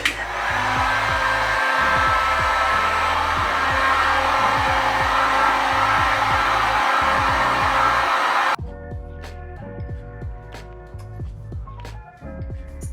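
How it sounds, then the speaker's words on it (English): A loud, steady heat gun blows air continuously for several seconds over a rhythmic background beat, then cuts off abruptly, leaving the beat alone. "You don't have a dryer, hair dryer, use a heat gun."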